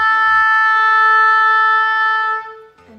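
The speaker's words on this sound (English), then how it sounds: "And the tuning note is played by the oboe." An oboe sounds a single sustained concert A tuning note, steady and bright with rich overtones, close and alone for about two and a half seconds before trailing off, with a faint low rumble early on.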